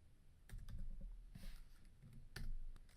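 Keys clack on a computer keyboard in a burst of quick, uneven taps, pausing briefly before another cluster of keystrokes; close and moderately loud, with no voices.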